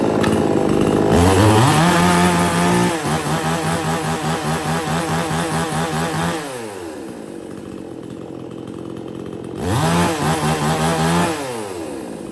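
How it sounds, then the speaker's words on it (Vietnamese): Aluminium-alloy chainsaw engine pull-started and running, loud and close, with a rough buzzing idle, a rise in revs, a fall back to idle, then another short burst of revving. "Em giật nổ cho anh em nghe qua nhá."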